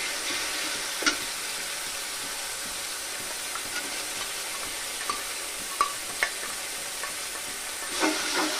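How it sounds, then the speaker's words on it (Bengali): Ground onion, garlic, ginger and green chilli paste fries in hot oil, a steady close sizzle across the whole stretch broken by a few sharp spoon taps on the pan, with no voices. "তো পেঁয়াজ রসুনটাকে একটু কষে নিব।"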